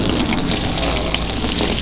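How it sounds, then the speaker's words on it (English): Water from a hose runs steadily over a coated aircraft surface outdoors, a continuous loud hiss and splash with no pauses. "So I'll go turn the water on"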